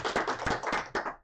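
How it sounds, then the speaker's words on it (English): An audience gives a short burst of quick, dense hand clapping that sounds close and loud, with several sharp claps standing out. "Why don't you give Dana a big round of applause for putting this all together?"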